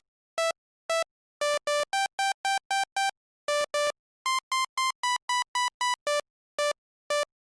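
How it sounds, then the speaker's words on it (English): Raw, unprocessed saw-wave synth lead plays an Alan Walker style melody: a run of short, bright, buzzy notes in a bouncy rhythm with brief gaps, loud and dry, with no other instruments. "I prepared a lead melody for you, which sounds like this without any settings changed."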